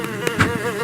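Bees buzzing in the Roblox horror game The Mimic, a dense close insect drone with a few brief swells over under a second.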